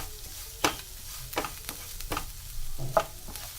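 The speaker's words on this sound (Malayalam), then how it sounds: "ഇനി ഇത് ഡാർക്ക് ബ്രൗൺ ഷെയ്ഡ് ആണ് വരെ നമുക്ക് ഇളക്കി കൊടുത്തിട്ട് റോസ്റ്റ് ചെയ്തെടുക്കാം" Grated coconut is stirred and dry-roasted in a pan, with a faint steady sizzle under scattered scraping strokes of a spoon, four or five sharper scrapes spaced unevenly, close and moderately loud, no voices.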